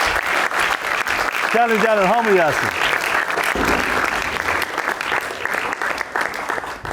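A studio audience at a comedy show claps to welcome the cast onto the stage, loud sustained applause filling the whole stretch, with someone speaking over it and a brief sung or shouted voice rising early on.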